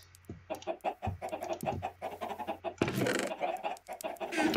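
A chicken clucks in a blocky survival video game, a series of short rhythmic clucks close by, followed by a louder burst of noisy squawking near the end.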